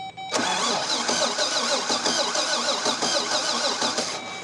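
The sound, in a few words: Toyota FJ40 engine cranking without starting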